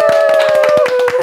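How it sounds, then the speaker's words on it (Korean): Quick, evenly spaced hand claps, about a dozen in a fast burst, sound close and crisp over a steady sustained tone. "박수 쳐야 되는데"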